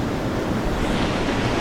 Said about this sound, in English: It's pouring down rain at the moment.